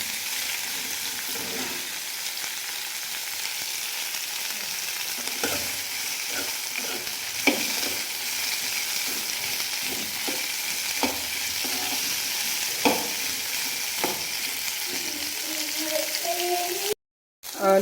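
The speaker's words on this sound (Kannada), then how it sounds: "ಇವಾಗ ನಾನು ಪೊಟ್ಯಾಟೋನ ಕೂಡ ಫ್ರೈ ಮಾಡ್ಕೊತಾ ಇದ್ದೀನಿ, ಸೇಮು ಅದೇ ಆಯಿಲಲ್ಲಿ." Potatoes fry in oil already used for cauliflower, a continuous loud sizzle with scattered pops and stirring clinks throughout, then a brief dropout near the end.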